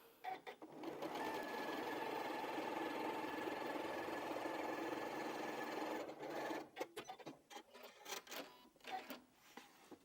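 A sewing machine top-stitches quilted fabric for a strippy bag in a steady, close run of about six seconds, then stops, followed by soft handling clicks and rustles.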